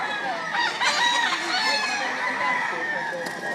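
A gamecock rooster crows loudly and close by at a fighting-cock market in Lipa, Batangas, one long sustained crow filling the clip, with faint voices in the background.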